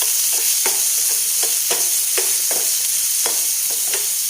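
Finely chopped onions frying in a pan for Andhra-style dal, a loud, steady close sizzle broken by regular scraping strokes of a spoon stirring about twice a second, with no talk.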